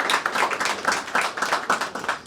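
Audience clapping for the organizers of a community gathering, a dense, steady patter of many hands that continues throughout without pause, fairly close and moderately loud.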